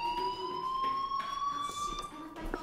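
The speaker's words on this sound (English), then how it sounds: "do you hear that fire alarm? That means you should be outside." A fire alarm sounds inside a school in the Life is Strange video game. A steady electronic tone rises slightly in pitch throughout, with faint thuds and game sounds under it.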